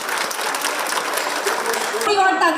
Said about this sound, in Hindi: जोरदार तालियों के साथ स्वागत कीजिए माननीय मुख्यमंत्री।